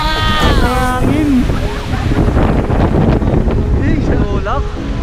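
Strong wind blows at People's Park in the Sky in Tagaytay, buffeting the microphone with a rough, continuous roar while voices are heard briefly near the start.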